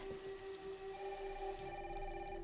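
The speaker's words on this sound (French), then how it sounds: "Waouh, il pleut vraiment des cordes." Heavy rain pouring down in a video game scene, a steady dense patter on surfaces under sustained tonal background music, fairly quiet.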